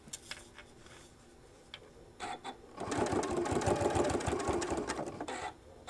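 A sewing machine stitches and back tacks a shoulder bag: a few separate clicks first, then a quiet, fast, steady run of stitching lasting about three seconds before stopping.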